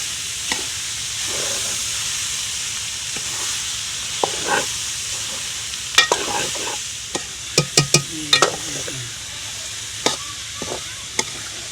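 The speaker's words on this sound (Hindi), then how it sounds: "अच्छी तरह से इसको मिक्स कर लेंगे तो फिर लगेगा अच्छा।" Steady stirring and scraping of drumstick-flower rice in a sizzling kadhai, a continuous frying hiss with spoon clinks and knocks scattered over it, close and moderately loud.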